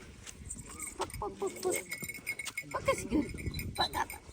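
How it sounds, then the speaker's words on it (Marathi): Goats bleat in short repeated calls amid lively people talking nearby, with scattered thumps and outdoor farmyard noise. "गोट आहे काय रे? गोट आहे का?"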